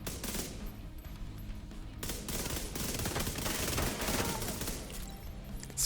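Rapid SMG fire in a video game, dense bursts of automatic shots rattling continuously and fairly quietly for several seconds, with no talk over them.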